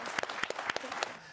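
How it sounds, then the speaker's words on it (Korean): A small studio audience gives a brief burst of applause on a startup talk show, irregular claps close together for about a second before fading out. "박수."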